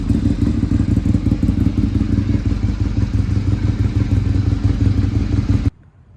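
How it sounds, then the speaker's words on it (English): A Ducati 848 V-twin motorcycle engine idles loudly and close with a lumpy, uneven throb, running steadily before cutting off abruptly near the end. "The idle of the V-twin is absolutely phenomenal."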